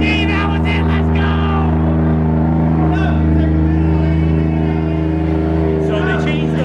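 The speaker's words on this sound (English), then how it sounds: "We got Kadeem's car running now here." A Nissan with a 1JZ engine fitted with a 110 throttle body idles loud and close with a steady drone and a few short revs, while excited voices shout and talk over it.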